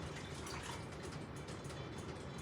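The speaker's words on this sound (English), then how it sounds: "I am going to put, this is 4 cups of broth, beef broth." Four cups of beef broth pour steadily into a cooking pot on a stovetop burner, giving a soft, continuous wash of liquid noise that runs without a break and stays fairly quiet.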